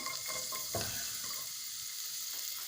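Steady sizzling and crackling of diced carrot frying in hot oil, close up, with faint stirring clatter and no voices.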